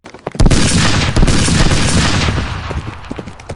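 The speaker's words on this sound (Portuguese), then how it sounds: "dispara vários tiros na direção deles" Rapid volley of loud Winchester rifle shots, one after another in a dense burst, ringing out close and echoing.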